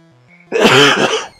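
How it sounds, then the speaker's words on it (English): A man coughs in a single loud, harsh burst lasting most of a second, close to the mic, with quiet electronic Pokémon Red game music playing underneath. "Cough, cough."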